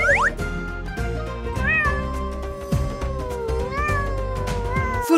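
A stylized Minecraft cat meows repeatedly over a looping game soundtrack, with rising and falling mews at a moderate, steady level.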